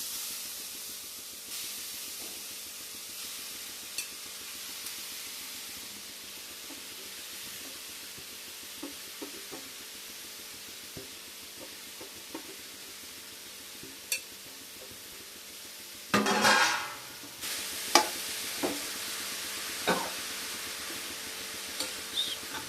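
Grated carrot frying in ghee in a pan for carrot halwa, a low steady sizzle with occasional stirring scrapes and a louder burst of hissing and clatter partway through.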